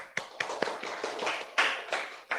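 Scattered applause from a small meeting audience, a handful of distinct claps and taps spaced unevenly at moderate volume.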